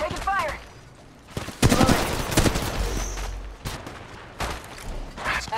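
Gunfire in the mobile battle royale Apex Legends Mobile, bursts of rapid shots and sharp impacts in clusters, loud and close, with quieter gaps between and a brief whooshing effect.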